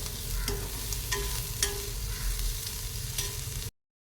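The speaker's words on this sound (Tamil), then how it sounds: "ரெண்டு டீஸ்பூன் மிளகாய்த்தூள் சேர்க்குறேன் நல்லா கலந்து விட்டுடலாம்" A spoon stirs chili powder into boiled potatoes and skinned field beans in a pan, scraping in a few distinct strokes over a steady low sizzle, close and fairly loud, with no talking.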